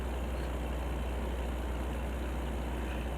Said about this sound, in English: Stupid engine. Wonder why that's malfunctioning.